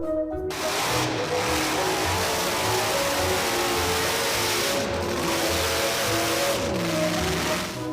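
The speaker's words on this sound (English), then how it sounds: "Driving a logging truck on muddy roads is not for novices" A logging truck's engine labours steadily on a muddy road, a loud, continuous diesel drone with a shifting pitch and rough low rumble that holds throughout without a break. Nobody speaks.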